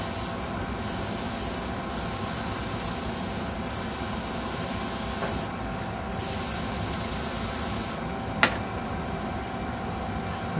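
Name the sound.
spraying Polyscale dirt and Windex mix through a nozzle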